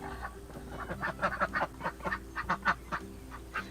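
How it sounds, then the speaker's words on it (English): Raspy, low honking quacks from several male ducks, repeated in quick irregular bursts, fairly close. "Always love how the male ducks sound."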